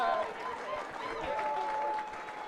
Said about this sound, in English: Please give a big celebratory round of applause and congratulations, Sophia.